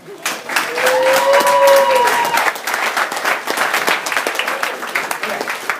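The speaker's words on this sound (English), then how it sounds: "give yourself a round of applause" A large audience at a Vemma Northwest regional meeting breaks into loud, sustained applause that gradually thins out, with a voice calling out over the clapping.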